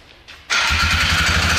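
A Polaris 325 four-stroke quad fires up after a brief cranking whir, then settles into a loud, steady close-up engine run with an even low throb.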